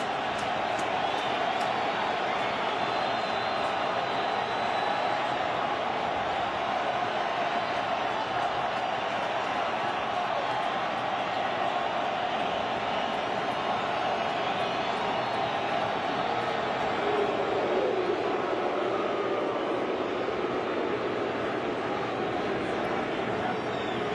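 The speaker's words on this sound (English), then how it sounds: "I don't know how a crowd this soaked can make this much noise" Soaked stadium crowd roaring continuously through rain at a World Series baseball game between the Rays and Phillies, a dense, steady wall of noise that swells slightly near the end.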